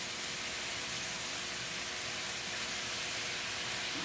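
Steam escaping steadily from a pressure cooker as it releases naturally during cooking of a garlic vegetable and shrimp medley, a continuous broadband hiss held at an even moderate level throughout, with no voices.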